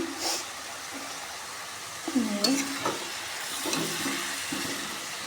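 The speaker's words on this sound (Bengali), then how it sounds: "এই আমি বাঁধাকপি ঘন্টটা বসিয়ে নিয়েছি" Cabbage curry fries in a pan with a steady, loud sizzle, broken by stirring scrapes and clatters from a utensil against the pan.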